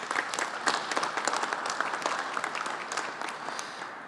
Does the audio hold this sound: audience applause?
yes